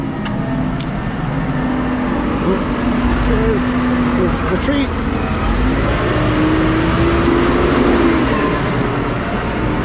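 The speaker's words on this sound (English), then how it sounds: "Tractor coming." A tractor rumbles along a farm track on the Ayrshire coast, a steady low engine drone holding close and loud throughout with slight rises in pitch as it passes, while a voice calls out briefly over it.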